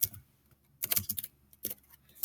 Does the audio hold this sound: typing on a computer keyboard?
yes